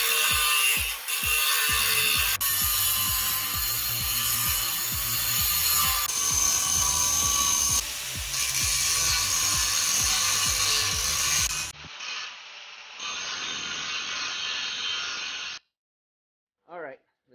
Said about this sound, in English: Yeah, it's a grinder,